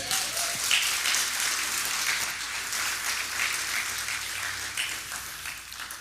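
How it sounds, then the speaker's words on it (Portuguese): Applause for Jesus Christ from a church congregation during a sermon, a soft, steady patter of clapping heard from a distance and sustained throughout. "Pode dar uma salva de palmas para Ele?"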